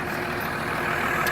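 A 12 valve diesel truck engine running, a loud, steady clattering rumble heard up close, with no talking.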